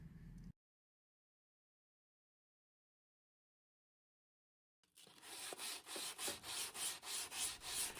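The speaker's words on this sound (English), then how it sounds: "you just kind of get in the habit of just kind of rubbing that top edge with your fingertip" A fingertip rubs rhythmically around the bearing edge of a 1965 Ludwig drum shell, a close, steady run of soft swishing strokes following a brief noise and a long silence.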